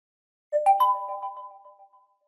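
A short phone message notification tone, a clean rising two-note chime that rings out and fades over about a second and a half in otherwise silent surroundings.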